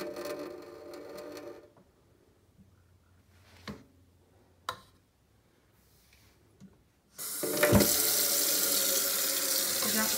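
Tap water pours into a container of aerated worm compost tea, a steady loud rush that begins abruptly partway through after quieter handling clicks and knocks.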